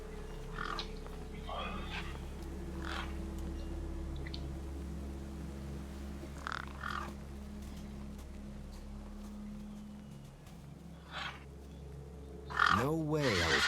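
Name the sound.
birds cawing in the video game Beyond a Steel Sky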